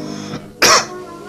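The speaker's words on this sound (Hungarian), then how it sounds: "Maga köhög?" A single sharp cough, loud and close, following a faint throat sound.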